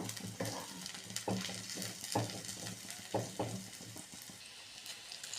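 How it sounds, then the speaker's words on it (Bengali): Onions frying in a pan for chicken yakhni pulao, a steady sizzle broken by repeated soft scrapes and taps of a stirring utensil, fairly quiet and without talk. "পেঁয়াজটা একটু লাল করে ভেজে নেব।"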